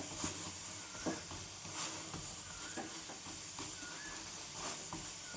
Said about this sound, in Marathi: भाजून घ्यायचं खरपूस असं दाबत दाबत दाबत छान कमी गॅसवर